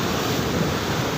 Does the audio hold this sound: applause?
no